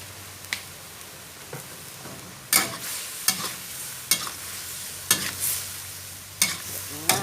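Mixed vegetables and minced pork are stir-fried in a pan, with repeated sharp scraping strokes of a spatula cutting through a steady sizzle. The strokes come at irregular intervals, close and fairly loud, with no talking.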